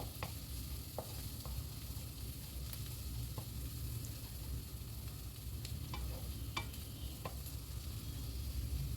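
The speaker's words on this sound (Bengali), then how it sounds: "বেটে রাখা ধনে আর জিরে একটু ভালো করে ভেজে নেব" Ground coriander and cumin paste fries with turmeric in a pan over a low-to-medium gas flame while cooking katla fish, giving a steady close sizzle broken by occasional sharp clicks of a stirring spoon.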